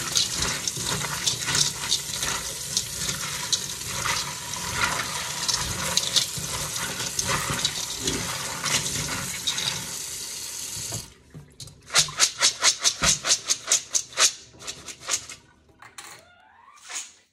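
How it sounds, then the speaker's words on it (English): Water from a sink tap pours steadily over lima beans in a colander for about eleven seconds, then breaks into a string of sharp rattling clatters and splashes as the beans are shaken. "I've got the colander in here. I'm going to give them a quick rinse."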